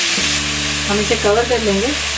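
Flat beans (val papdi) frying on high flame give a steady sizzle in a pan, with a person speaking briefly over the cooking noise midway.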